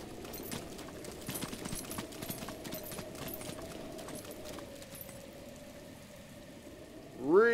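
Steady rain patters down in The Legend of Zelda: Breath of the Wild, a dense, even hiss with scattered drops and clip-clop-like taps, fading slightly before a short rising tone at the end.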